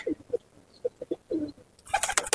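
Punjabi Malwai pigeons coo inside a loft in short, soft, repeated pulses at a close distance, followed by a sudden burst of rustling or wing flutter at the end.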